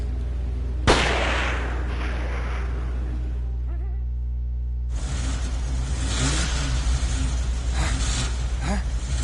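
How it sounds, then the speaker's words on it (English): A pickup truck engine in the horror game Siren catches and settles into a steady rumbling idle after a sharp click and a quiet pause, close and fairly loud. "We're gonna start the pickup truck."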